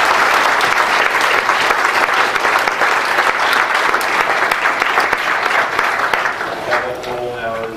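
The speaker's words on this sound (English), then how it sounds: "So we should applaud all our speakers." An audience at a perception and action symposium applauds its speakers with loud, sustained clapping that gradually thins toward the end, where a voice begins to speak.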